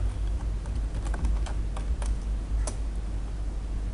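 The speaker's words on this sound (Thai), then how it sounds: "พิมพ์คำว่าฝากรูปนะครับ" Fingers tap out a search query on a computer keyboard, a quick run of light, uneven clicks close up over a steady low background hum.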